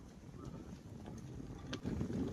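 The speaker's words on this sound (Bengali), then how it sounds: "বাতাস কি সুন্দর ভাই বাতাস এখানে।" Wind blows beside a river lined with trees, a soft gusting rush buffeting the microphone in uneven swells that grow stronger toward the end, with no talking.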